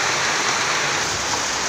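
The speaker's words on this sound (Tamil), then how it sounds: "இந்த மழை நல்லா பெய்யுது பாருங்கள் ஃப்ரெண்ட்ஸ்" Heavy rain pours outside, overflowing a barrel, in a dense, continuous hiss of drops striking surfaces with a steady close roar and no voices.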